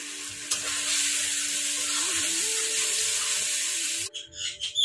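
Eggs frying in a pan as part of an egg biryani, giving a steady, fairly loud broadband sizzle that runs for about four seconds before cutting off abruptly, leaving a few faint clatters.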